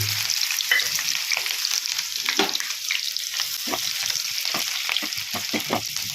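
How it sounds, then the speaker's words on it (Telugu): Sliced onions frying in a pan for an egg and carrot curry, a steady close sizzle with scattered crackles and occasional scrape-like stirring clicks, no talking. "ఇలా ఉల్లిపాయలు వేగిన తర్వాత"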